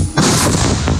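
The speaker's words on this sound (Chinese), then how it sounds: "The shelling never stops" An artillery round booms heavily near a front line around Bakhmut in snowy conditions, one loud, broad blast with a rumbling tail and a second thud close behind.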